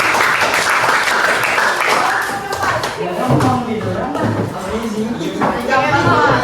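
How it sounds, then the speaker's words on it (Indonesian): Classroom of middle school students clapping together, a dense, steady burst of applause mixed with overlapping voices and chatter throughout. "Oke, tepuk tangan."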